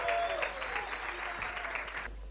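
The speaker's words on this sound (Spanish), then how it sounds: "¡Fuerte los aplausos!" A church youth gathering's audience applauds a teenage speaker, a lively steady clatter of clapping that cuts off abruptly near the end.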